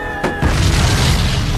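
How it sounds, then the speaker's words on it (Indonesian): A battlefield explosion in a World War I film scene set in France: a sudden loud boom that bursts in and then rolls on as a heavy, sustained rumble. "Suasana tembakan, ledakan, dan terdengar begitu mengerikan."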